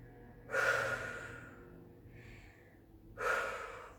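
Two heavy breaths during a cardio workout, close and clear, each a strong rushing exhale with a fainter breath between them and no talk.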